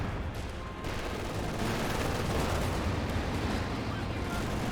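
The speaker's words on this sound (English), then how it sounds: "5 rocket barrage running in over here" Rocket barrage in the Company of Heroes 2 video game: a dense, continuous rumble of explosions and gunfire-like bursts, loud and sustained, with a commentator talking over the battle noise.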